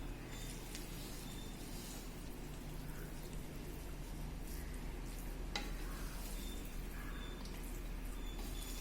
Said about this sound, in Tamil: இப்படி சைடோட கிளறி கொடுங்க.